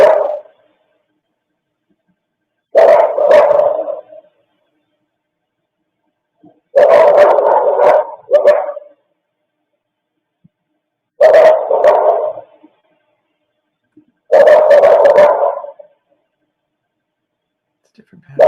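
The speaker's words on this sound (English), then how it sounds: "That's a second dog right there." Several dogs barking in outdoor security camera footage, with short clusters of barks returning at regular intervals and silence between them, moderately near and alone.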